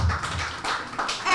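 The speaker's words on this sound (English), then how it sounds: "Daniel, clap again." An audience at a web app launch event claps on request, giving a few loose bursts of hand claps and taps at close range, with no talk.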